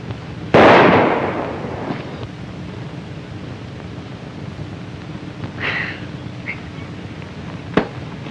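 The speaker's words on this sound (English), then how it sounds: "Say, that's pretty good shooting." A single loud gunshot cracks out in a 1939 Western film, a sharp blast decaying into a rumbling tail, followed by a few faint clicks and a small sharp pop near the end, with no talk.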